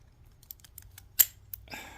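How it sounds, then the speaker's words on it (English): A City Rake lock pick worked with a tension wrench inside a lock makes sparse, quiet metallic clicks and ticks, with a sharper scrape near the end. "I'm going to go back with that same tension wrench, and I'm going to grab a different rake"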